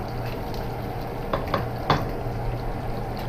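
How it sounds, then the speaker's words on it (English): Soft, steady sizzle of cut-up pepperoni frying in a pan, with a low hum underneath and a few brief crackles and pops. "So this is the last of the pepperoni I cut up. I'm frying it."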